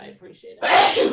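A single loud sneeze from a person in a committee meeting, bursting out right after a short phrase of speech.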